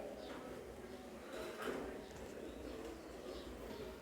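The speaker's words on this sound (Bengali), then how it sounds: "3 রুমেই ভরা কবুতর" Pigeons coo softly in a crowded three-room pigeon loft at a Khulna pigeon market, low murmuring calls continuing under steady background noise.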